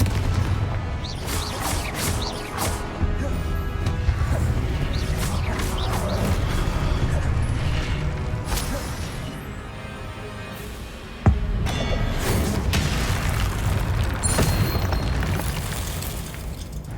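Confringo fire spell blasts in the video game Hogwarts Legacy, a run of rumbling explosive booms over dense game noise, with one sharp crack standing out near the end.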